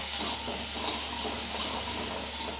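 Potato pieces frying in a pan with salt and turmeric, giving a steady, even hiss of sizzling oil throughout, close and moderately loud with no talk.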